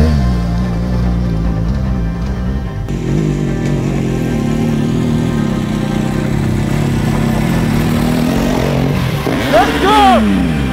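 A trail motorcycle engine on a night ride, running steadily with a low rumble, then revving sharply in rising bursts near the end, close and loud.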